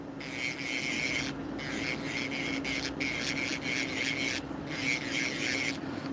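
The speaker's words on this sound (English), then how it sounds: "I'm only here to show you this beautiful drill" An electric nail drill files acrylic nails with a steady, gritty rasping whir, close and continuous, broken by a few brief pauses as the bit lifts off the nail.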